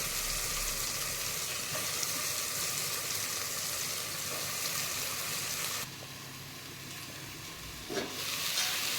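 Ridge gourd pieces fry in a pan with a continuous soft sizzle and hiss that drops a little in level partway through, followed by a brief stirring scrape.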